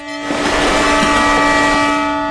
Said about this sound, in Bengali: এই ট্রেন আসছে, এসো এসো।